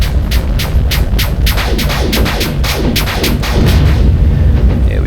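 Rapid bursts of space-combat gunfire from the VR game Space Fighter VR, a dense string of loud, evenly spaced blasts over a low throbbing rumble, with no talking.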